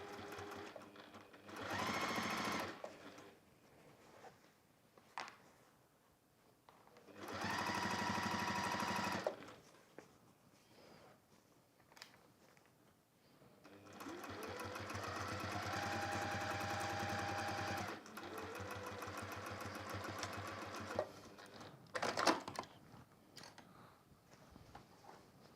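Sewing machine top stitching around a handbag lining, running in several bursts of steady whirring separated by short pauses, close and moderately loud with no talk.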